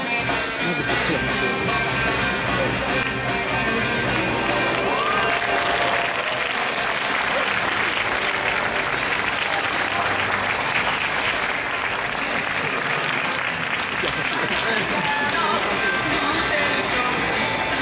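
A large indoor audience at a football club's new-season uniform presentation applauds continuously and loudly, with a dense, even clapping sustained throughout as new players appear in their team uniforms.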